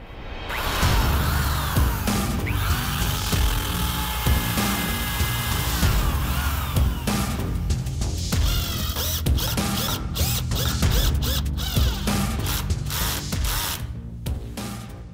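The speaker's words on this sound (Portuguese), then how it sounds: "Começa a furar e parafusar." A cordless drill and screwdriver from The Black Tools whirs loudly and continuously, drilling and then driving screws into a wooden frame on a table. The motor pitch rises and falls as it works, and a rapid burst of clicking ratchet-like bursts follows toward the end.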